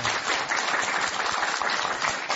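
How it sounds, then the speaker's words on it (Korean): A brief burst of audience applause at a Buddhist television talk show, dense and even clapping at close range for a couple of seconds. "박수 한번 드리세요"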